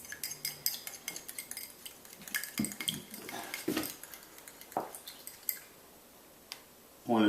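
Oil and egg stirred together in a bowl for hand-made pizza dough, a utensil clinking and scraping against the bowl in quick irregular taps with wet squishing, close and moderately quiet, ending in a brief louder thump.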